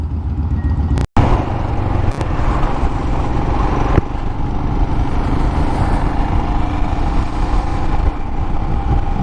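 Motorbike engine on a ride out, a steady loud rumble with wind buffeting and a couple of sharp dropouts, close and continuous with no speech.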